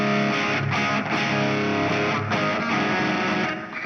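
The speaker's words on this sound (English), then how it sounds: "the distortion side is a little darker, which is, pretty common, this kind of thing" Electric guitar played through the distortion side of a Chase Bliss Brothers AM pedal, a loud, thick, darker distorted tone with chords struck in a steady rhythm, alone without talk.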